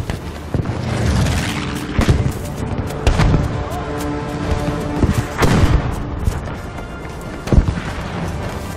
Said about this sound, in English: Can I get hit by my own artillery strike?